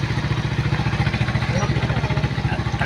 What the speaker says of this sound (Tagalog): Bibilis magganun ito ng mga motor.